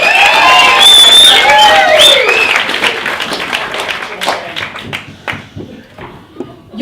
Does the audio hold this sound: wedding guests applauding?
yes